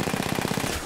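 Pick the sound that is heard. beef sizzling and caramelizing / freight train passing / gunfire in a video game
gunfire in a video game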